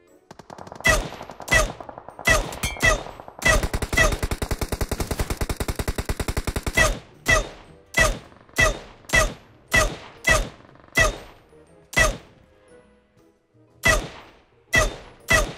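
Rapid automatic gunfire from a battle royale video game, a fast sustained burst followed by a string of spaced, loud single shots with no talk over it.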